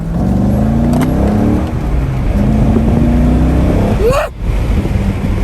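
A 1997 Corvette accelerates with a loud, close engine drone that climbs steadily in pitch, then rises sharply in a final surge and cuts off abruptly near the end.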